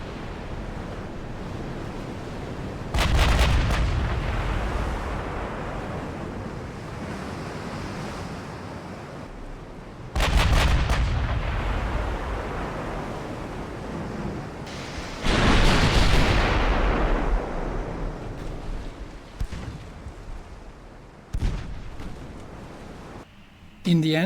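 Naval guns fire in the warship game Ultimate Admiral Dreadnoughts, set in a 1920 US campaign, giving several loud booming blasts at intervals. Each blast fades into a long rumbling wash like ocean surf, and nobody speaks.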